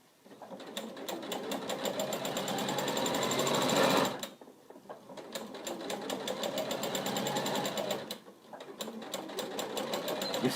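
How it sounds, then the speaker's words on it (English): A sewing machine stitches across the bottom of a scrubs bag in long, rapid runs of steady needle chatter, pausing briefly twice before starting up again, close and clear without talk. "you've stitched across the bottom of your bag like that"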